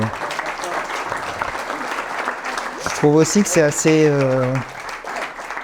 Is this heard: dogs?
no